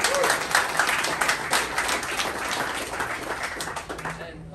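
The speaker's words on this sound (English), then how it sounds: "round of applause for them." Applause from a crowd at a 2023 senior farewell honoring the parents, dense, steady clapping that fills the space and fades slightly at the end.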